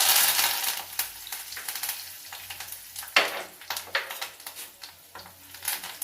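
Mustard seeds, cumin, curry leaves, dried red chillies, urad and chana dal crackling in hot oil for a tempering for ridge gourd dal, a steady close sizzle with scattered sharp pops and spatters throughout.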